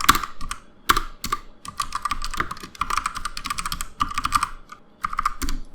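Code goes in on a computer keyboard in quick, close bursts of crisp key clicks, broken by short pauses, with no voice over them.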